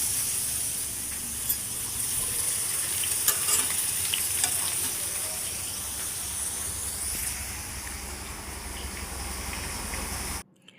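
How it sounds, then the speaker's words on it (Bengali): Chopped onion frying in a pan on a home kitchen stove, a steady broadband sizzle with occasional stirring scrapes and clinks, continuous and fairly close, then cutting off abruptly at the end. "এই পেঁয়াজ কেটে দিয়ে ভাজা হবে"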